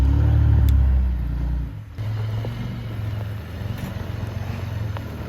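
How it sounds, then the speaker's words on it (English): Diesel Jeep Gladiator on 43-inch tires idling and pulling away nearby, a loud low engine rumble that drops after a couple of seconds into a steadier, quieter drone with outdoor background noise. "Fry just got here, and his buddy Scott with this ridiculous Gladiator on 43s. It's a diesel with this cover."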